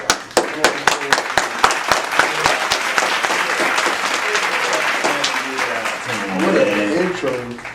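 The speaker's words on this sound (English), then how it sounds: "can y'all please give a round of applause to my guy, Mr. Maxx Good." Applause from a crowd, opening with sharp individual claps that merge into steady clapping, with voices and cheering rising toward the end.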